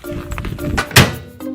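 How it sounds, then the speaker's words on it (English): A plastic toy play kitchen oven door is handled, giving a few light knocks and rattles and then one sharp close thunk, with a brief hum afterward. "Open the door for me."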